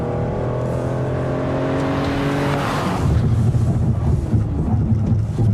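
A heavy 2015 Toyota Sienna minivan accelerating hard on a test track, engine note rising steadily in pitch, then a deeper, rougher roar with wind rush after a shift, loud and close from inside.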